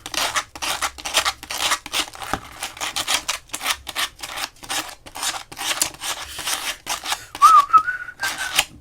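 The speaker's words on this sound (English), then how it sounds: "Now we're going to sand it down a little bit with sandpaper." Sandpaper is rubbed back and forth along the edges of a handmade cosplay piece in quick, steady rasping strokes, close and fairly loud, with a brief whistle near the end.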